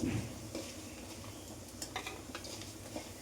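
Raw rice being dry-fried and stirred in a pan for a Bengali vegetarian rice-and-pointed-gourd dish, a quiet, even sizzle with light spoon scrapes and clinks against the pan; no voices.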